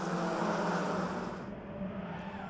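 VW Fun Cup race cars accelerate off the start line together, a dense, loud engine roar that thins and eases slightly as the pack pulls away.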